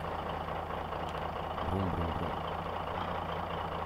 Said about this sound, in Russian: А слышите, какой звук двигателя у него? Как у настоящего автобуса